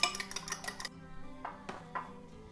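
Eggs being whisked in a small bowl for banana bread, a quick run of light metallic clinks against the bowl followed by a few separate taps, fairly quiet and close with no talking.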